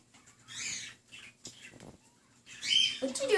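A baby bird chirps in short, high bursts close by, with a quiet pause in the middle before a louder, denser run of cheeps at the end.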